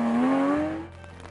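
A Porsche 911 GT3 engine rated to rev to 9,000 RPM climbs in a rising wail, then cuts off after about a second to a low idle hum, heard alone.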